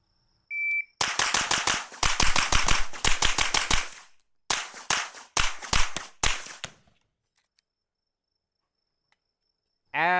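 A JP-5 firing hollow points through a HUXWRX Flow 9K Ti suppressor, fast bursts of sharp muffled reports in rapid strings, then a pause and a second run of shots before silence, with a beep near the start.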